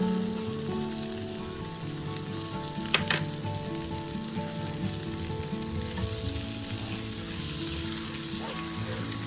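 Garlic frying in oil and butter in a pan sizzles steadily and crackles close up, with a brief clink partway through and no talking.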